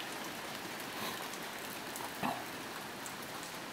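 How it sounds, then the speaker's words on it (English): Heavy rain pours down outdoors as a steady, even hiss that fills the whole stretch, with a brief louder splash or knock near the middle. "it's raining like crazy"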